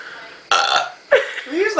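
Loud, close burps in a burping contest after a whole bottle of pop, two long belches separated by a short pause, with a voice briefly at the end.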